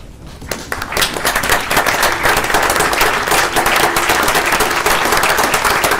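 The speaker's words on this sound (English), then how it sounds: "I would like for us all to stand and give our police officers, firefighters, and city marshals a round of applause." Council chamber audience standing to applaud police officers, firefighters and city marshals at a Shreveport city council meeting: loud, dense clapping that quickly swells and holds steady.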